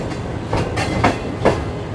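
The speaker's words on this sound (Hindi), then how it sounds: "आ गया जी फाइनली रहीम यार खान रेलवे स्टेशन।" Express train pulling into Rahim Yar Khan railway station in Pakistan, a steady rolling rumble with repeated rhythmic clickety-clack wheel beats over rail joints, close and loud.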